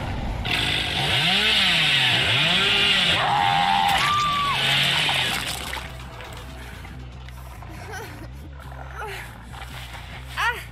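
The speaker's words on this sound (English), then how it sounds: "I'm sorry, the chainsaw chose you." Chainsaw from the Hillbilly killer in Dead by Daylight, revving loudly in repeated rising and falling surges for several seconds before cutting out, followed by quieter game ambience with a brief sharp hit near the end.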